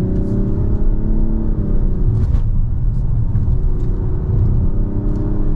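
Engine and road noise from a 2025 Mazda CX-70 SUV driven in sport mode, a steady low drone and rumble with a faint whir, continuous and close throughout, no talking.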